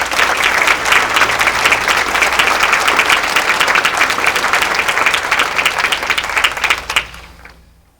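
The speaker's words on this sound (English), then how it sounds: "let's congratulate him with a round of applause for his achievements" An audience at a coaches hall of fame induction ceremony gives a long round of applause, dense and steady for about seven seconds before quickly fading to silence.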